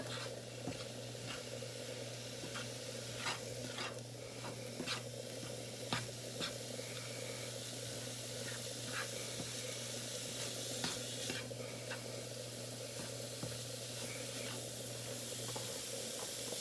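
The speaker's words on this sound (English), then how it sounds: "you can hear it sizzle now" Steady, quiet sizzling of food in a hot frying pan, with garlic salt added, occasional small pops and crackles over a constant low hum.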